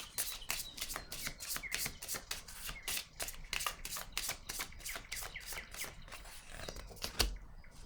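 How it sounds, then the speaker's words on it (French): Tarot cards are shuffled, flicked and laid down on a table in a quick, continuous run of soft slaps and riffles, faint and close, with no talking. "Je vais déposer une carte ici."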